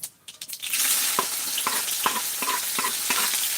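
Green chillies frying in hot oil with mustard seeds and cumin give a steady, loud sizzle, punctuated by several sharp stirring scrapes and clicks, with no talking.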